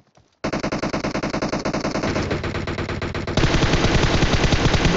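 Rapid automatic gunfire from a DP-28 and an M416 in a video game. Long, loud, continuous bursts that grow heavier partway through, heard alone without talk.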